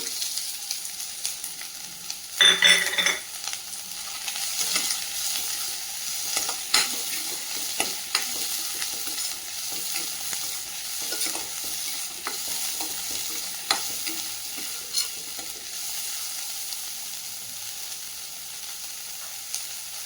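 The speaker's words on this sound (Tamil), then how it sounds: "அடுத்து சின்ன வெங்காயத்தை 1 பாதியமாக தட்டி எடுத்து வச்சுருக்கோம், அதையும் ஆட் பண்ணிக்கலாம்." Crushed small shallots sizzle steadily in a hot pan for a manathakkali greens soup, with a soft continuous frying hiss and occasional scraping stirs throughout, close and fairly loud.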